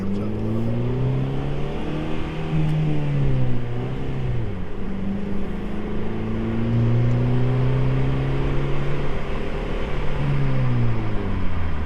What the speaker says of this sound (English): come up slowly, and give it a tad bit of gas